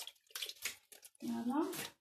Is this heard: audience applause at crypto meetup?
no